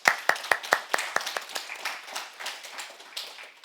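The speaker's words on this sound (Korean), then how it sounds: "우리 찬양팀을 위해서 다시 한번 우리 큰 감사의 박수를 전하겠습니다" A church congregation claps in thanks for the praise team, opening with several sharp, distinct claps that blend into softer, scattered applause, fairly quiet and with no talk over it.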